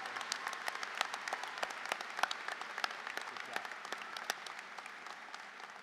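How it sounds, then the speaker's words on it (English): Audience applause at an engineering college commencement, heard as a faint, distant patter of many claps with individual sharper hand strikes poking out, steady across the whole span. "Please give a grand round of applause for these outstanding students."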